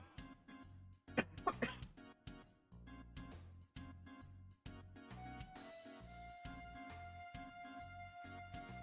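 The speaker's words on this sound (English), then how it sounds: "I hate having a cough." A single person coughs several times in a rough burst near the start, close to the mic and loud, over steady background game music that continues afterward.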